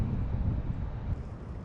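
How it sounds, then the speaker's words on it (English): Wind picking up on open water while fishing, a brief steady low rumbling buffet against the microphone, close and continuous, with no voices. "That wind's starting to pick up a little bit though."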